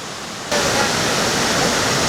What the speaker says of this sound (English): you can just walk around right beside the waterfall